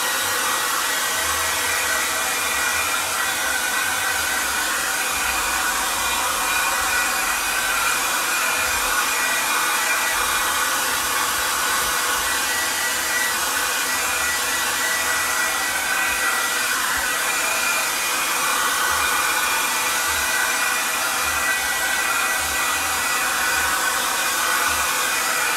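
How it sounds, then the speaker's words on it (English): A small hair dryer blows continuously at a loud, steady roar, with an even airy whoosh and a faint motor hum throughout. "I think I'm gonna use my hair dryer."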